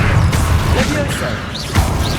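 A Leviosa levitation spell is cast in Hogwarts Legacy amid game combat, giving a quick magical whoosh with sweeping tones that rise and fall over a steady bed of noise.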